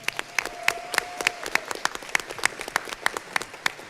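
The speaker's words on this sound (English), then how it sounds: "Let's give her a round of applause." A school board meeting audience applauds, with sharp individual claps rippling unevenly at moderate volume for a few seconds and no speech over it.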